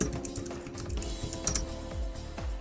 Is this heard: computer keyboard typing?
yes